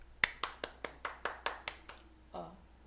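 A few slow, evenly spaced hand claps, about nine in a steady rhythm, close and fairly quiet in a radio studio, followed by a short vocal sound at the end.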